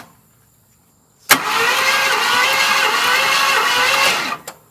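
An abandoned 1974 Ford F250 V8 cranks over on the starter for about three seconds without firing, a loud, close, steady whirring drone that begins abruptly and cuts off, with a faint click afterward.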